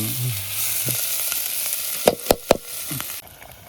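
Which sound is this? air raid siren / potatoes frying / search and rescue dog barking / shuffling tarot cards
potatoes frying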